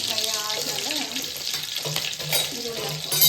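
Bay leaf, cinnamon and clove frying in a home pan give a close, steady sizzle, with a few brief clinks and soft low knocks from stirring partway through.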